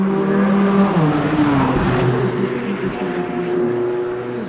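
A light race car sweeps past at speed during a motor racing event, its engine note loud and close, then dropping in pitch and fading into a steady background rumble.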